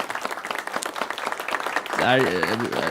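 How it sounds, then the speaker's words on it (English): Brief burst of clapping from a small group, quick close claps, after which a voice breaks in and talks over the tail end. "A little round of applause."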